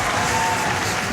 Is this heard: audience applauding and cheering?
yes